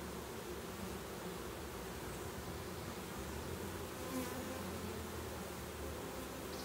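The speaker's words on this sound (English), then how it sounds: "they've got a really good brood pattern, so there's a really good laying queen in here" Honeybees swarm over an open hive during an inspection, a dense, continuous, loud buzzing drone that holds steady throughout with no voices.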